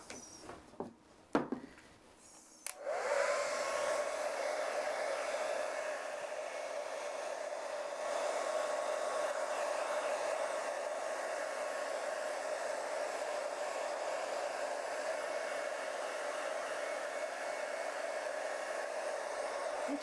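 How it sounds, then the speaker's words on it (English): A hair dryer blows steadily and loudly for a long stretch to dry paint on an art project, after a few brief knocks and clicks at the start. "now I have to use the dryer."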